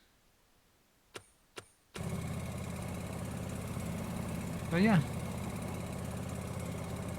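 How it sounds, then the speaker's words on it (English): A lawn mower engine in the Farming Simulator 25 game runs steadily at a constant drone after a couple of clicks, with a brief rising tone near the end and someone talking over it. "that's the lawnmower"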